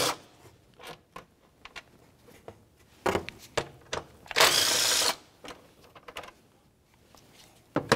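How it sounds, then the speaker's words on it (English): Ratcheting clicks of a 10 millimeter socket wrench loosening bolts on the top cover of a 2004-2015 Nissan Titan, close and intermittent, with a longer burst of ratcheting in the middle and no talk. "we'll use a 10 millimeter and remove both of our bolts"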